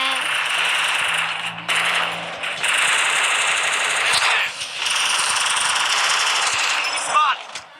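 Gunfire in the Free Fire video game, a long sustained rattle of automatic fire nearly throughout, loud and close with short breaks, over game background noise and occasional voices.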